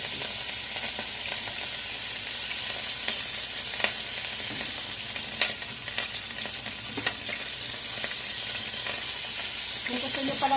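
Pork tenderloin fries hard in a pan, a steady bright sizzle broken by sharp spattering pops and occasional stirring scrapes, close and continuous with only faint voice in the background.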